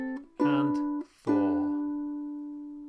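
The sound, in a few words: ukulele strings plucked, song intro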